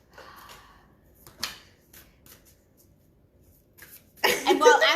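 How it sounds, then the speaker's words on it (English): Tarot cards being shuffled: scattered soft taps and slides of the deck, then a brisk, close riffling burst near the end. "while Ashleigh is shuffling these cards tonight"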